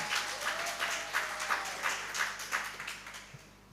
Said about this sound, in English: Can we have one more loud round of applause for our member?